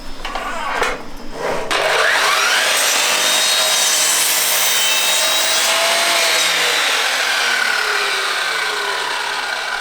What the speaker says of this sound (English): So let's use the chop saw.